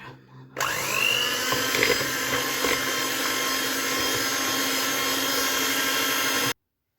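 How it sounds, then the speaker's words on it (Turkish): An electric hand mixer whisks sugar for a strawberry jam cake, a steady high whine starting abruptly after a brief pause and holding at an even pitch for several seconds before cutting off. "mikserimle çırpacağım arkadaşlar."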